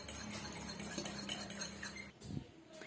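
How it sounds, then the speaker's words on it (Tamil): Fork whisking raw eggs in a bowl for an omelette, a quick run of close, light clinking taps against the bowl, fairly quiet and without talk. "இதை நம்ம ஒரு ஃபோக்கை வச்சு நல்லா நல்லா மிக்ஸ் பண்ணி விட்டுக்கலாம்."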